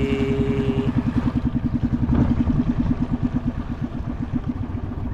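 A boat engine chugs steadily throughout, a rapid even rhythmic thudding with mechanical clatter, loud and close, with no voices.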